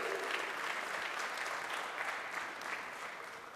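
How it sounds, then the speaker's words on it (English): Audience applause at a business talk in Dhule, Maharashtra: a continuous wash of many people clapping, steady and fairly distant, with no break from start to finish. "We must do a lot of clapping for Dhule, brand Dhule."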